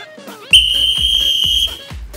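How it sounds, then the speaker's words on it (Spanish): A single long, shrill whistle blast signals the start of a ball-throwing game, ringing out loud and steady for over a second, with splashing and crowd noise beneath it. "Cuando yo suene el silbato"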